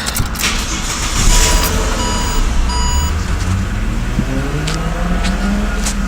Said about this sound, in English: So we're going to start it up, and this time we're going to leave the motor running.